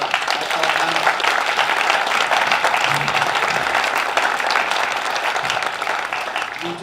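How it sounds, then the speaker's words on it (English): A room of listeners gives a quick round of applause for the panel at a lunch-and-learn talk on the 2019 Alberta election, dense clapping filling the space steadily for about seven seconds before easing slightly at the end. "Quick round of applause for our panel."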